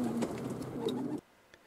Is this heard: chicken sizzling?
no